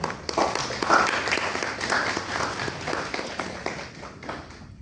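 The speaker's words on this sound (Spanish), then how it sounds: "Un fuerte aplauso para la doctora, por favor." Audience applause for a doctor after a veterinary talk on feline urinary tract disease, a dense, steady clapping that holds for about five seconds at moderate volume with no speech over it.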